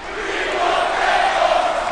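A large wrestling arena crowd at TNA Genesis 2009 roars and chants for tables, a loud, steady wall of voices that swells slightly over time.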